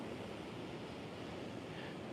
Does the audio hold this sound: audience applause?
no